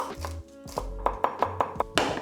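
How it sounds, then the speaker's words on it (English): Celery chopped with a knife on a board for soup, giving a close, crisp run of about eight firm knocks in an uneven rhythm, alone without talk. "Just want to cut them enough to speed up the cooking. And the celery."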